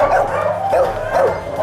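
Old dogs at a dog refuge bark and yip in a loud, overlapping chorus, several animals calling repeatedly nearby.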